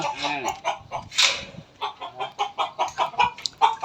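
Village chickens cluck inside their dedicated coop shed, a close, busy run of short, repeated clucks and squawks with an irregular rhythm and one louder squawk early on.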